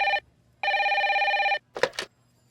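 A mobile phone ringing indoors with loud electronic bursts, two long tonal rings separated by a short gap, followed by a brief rustling handling sound as it is picked up.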